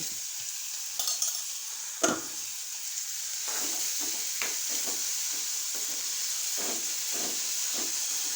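Onions sautéing in a pan for a prawn gravy: a steady close sizzle and hiss throughout, broken by repeated scraping stir strokes and a sharp knock of the spoon early on, with no voices.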